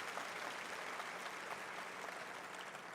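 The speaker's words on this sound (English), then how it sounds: "Give yourself a round of applause." Steady audience applause from school employees at a district leadership conference, a dense continuous wash of clapping heard at a moderate distance.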